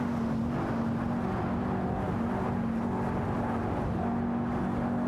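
A Radical RXC and a Porsche 911 991 GT2 RS race in a video game, engines droning steadily with a constant high-revving tone, loud and continuous with no voices.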